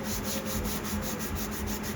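Steady rhythmic rubbing of a sanding sponge over a pine guitar body finished with tung oil, repeated back-and-forth strokes at an even pace, close and moderately quiet.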